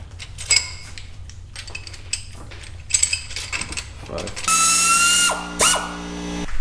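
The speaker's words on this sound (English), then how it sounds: "we'll go ahead and we'll put our cam caps in, and we'll follow the torque and sequence" A ratchet clicks in quick bursts while cam caps are fitted to a Honda S2000 engine, followed by a sustained whirring drill-like tone and a few metallic clinks at close range.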